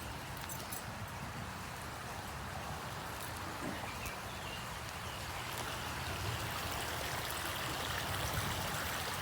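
A creek in Antrim Lake Park, Columbus, Ohio, flows with a steady, fairly soft babble and trickle of moving water, heard outdoors with no talking over it.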